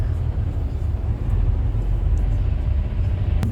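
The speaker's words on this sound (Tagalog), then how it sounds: "Traffic." Road traffic heard from inside a car on a trip to Yinxian Resort in China: a steady low engine and road rumble droning continuously, with no talk.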